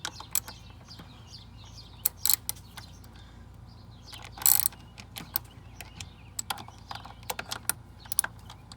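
A ratchet with a 10mm socket loosens bolts on the idle air control valve of a 1996 Ford Explorer 4.0 liter V6, giving close, crisp clicking bursts in irregular rapid runs with brief pauses.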